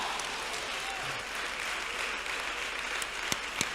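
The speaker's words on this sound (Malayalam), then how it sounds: "ഓ, കൈയടിച്ച് സ്വന്തം പറഞ്ഞേ." Congregation clapping during a sermon at an IPC prayer centre, a steady crowd applause with a couple of sharper claps standing out near the end.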